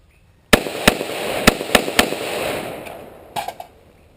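A Beretta ARX100 rifle fires rounds from a heavy-duty steel Beretta magazine: five sharp, loud shots in quick, slightly uneven succession, each followed by a short echoing tail, then a couple of fainter bangs at a distance.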